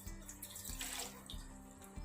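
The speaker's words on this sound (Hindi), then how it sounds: "इसमें सबसे पहले 3 कप पानी डाल देंगे।" Three cups of water are poured into a small cooking pot on a home stove while making tomato ketchup, producing a quiet, close, splashing stream that runs for about two seconds.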